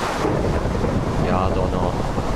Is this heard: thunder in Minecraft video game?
yes